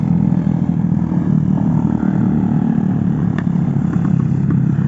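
A semi-trail motorbike rides past on a rural village road toward farm plots, its steady engine drone holding close and loud throughout with a brief clatter midway.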